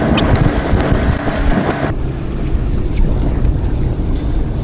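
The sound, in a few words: Sea-Doo GTR 230 jet ski engine running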